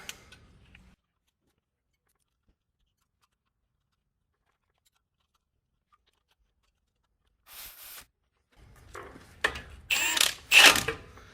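A ratchet tightens the spindle bolts on an Acura RSX Type S during a driver-side CV axle replacement: after a long silence come a few short bursts of close, loud clicking strokes near the end.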